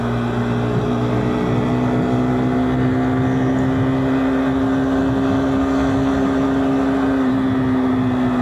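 A KTM 390 Duke motorcycle engine drones steadily while engine braking, a constant mechanical hum with a nearly fixed pitch under rushing wind noise.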